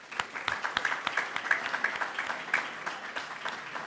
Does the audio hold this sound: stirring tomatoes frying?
no